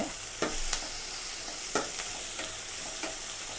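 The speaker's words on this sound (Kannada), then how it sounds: "ಚೆನ್ನಾಗಿ ಬಾಡಿಸ್ಕೋಬೇಕು ಎಣ್ಣೆಯಲ್ಲಿ, ಬರೀ ಈರುಳ್ಳಿ ಮಾತ್ರ ಬಿಸಿ ಮಾಡ್ಕೋಬೇಕಷ್ಟೇ" Onions sizzle in hot oil with a steady frying hiss, punctuated by a few scraping strokes of a spatula.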